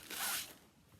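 Cross-stitch fabric packaging crinkles in one brief, soft burst of rustling, quick and close, then fades into quiet.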